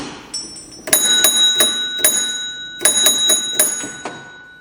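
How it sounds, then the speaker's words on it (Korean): A bell on a non-powered fire alarm, triggered when a 150 m fishing line is cut, rings in two quick bursts of bright, metallic strikes, each burst holding several rapid dings with ringing overtones. "이렇게 종이 울려서 화재가 난 걸 알릴 수 있게끔 설치를 했습니다."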